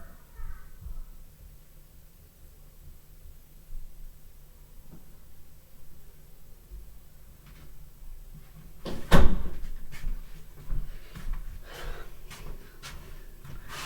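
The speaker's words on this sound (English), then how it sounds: "Stop slamming doors." Indoor doors in an echoey upstairs room bang with one sharp, loud slam, followed by a few softer knocks and rattles, set against a quiet room background.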